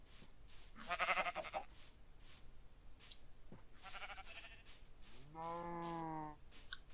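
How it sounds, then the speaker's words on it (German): Minecraft sheep bleat among farm animals: a few separate, fairly loud synthetic animal calls come one after another, and the last is a long, drawn-out cry. "Und noch mehr Schafe."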